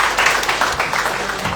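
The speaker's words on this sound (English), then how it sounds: "with a huge round of applause," Dense applause from a conference audience at a sustainability forum, a steady loud patter of many hands clapping throughout.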